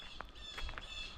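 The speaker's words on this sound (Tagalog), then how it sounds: "May ibon, narinig niyo ba yun?" A bird calling from a tree in a residential side yard, a few short faint calls spaced across a quiet outdoor moment.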